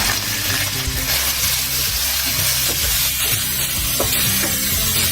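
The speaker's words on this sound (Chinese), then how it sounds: "热锅凉油，下肉片" Meat slices dropped into hot oil in a wok give a steady, loud, close sizzle with a dense crackle throughout, and a light stirring scrape can be heard now and then.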